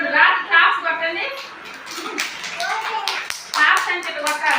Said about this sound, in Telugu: రాత్రి క్లాప్స్ కొట్టండి